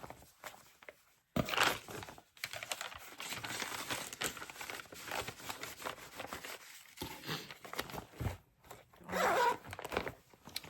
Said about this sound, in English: I'm sorry for the zipper sounds, if that bothers you.